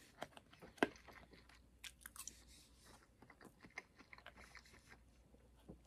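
Grilled chipotle chicken being chewed close to the mic, with soft, irregular bites and crunches repeating through a quiet room, and no talking.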